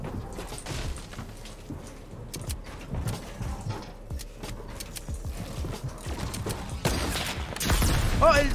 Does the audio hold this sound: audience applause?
no